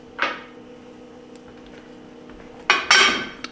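Chopped onion and green pepper tumble into a pan for a sausage, shrimp and black bean soup. A brief clink comes first, then after a quiet stretch two louder rustling, clattering drops land close by.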